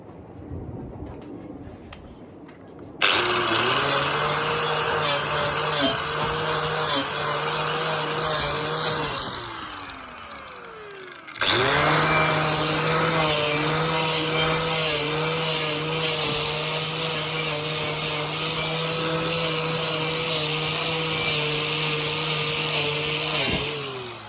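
A power sander works a custom bike with a steady, loud whine and rubbing rasp, running for about six seconds, stopping briefly, then starting again and droning on without pause.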